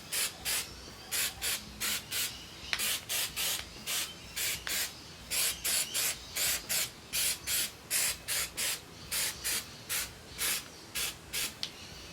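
An aerosol can sprays black paint onto Jeep wheels in quick, evenly spaced hissing bursts, about two per second, close up and loud with no talking.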